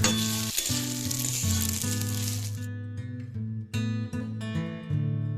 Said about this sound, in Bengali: আবারও মশলাটা খুব ভালো করে কষাবো সাথে চালটাকেও ভাজা ভাজা করে নেবো